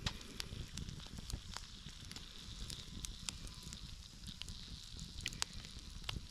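A campfire on a creek bank crackles and pops steadily outdoors, with sharp irregular snaps over a low rumbling, breezy background; no talking.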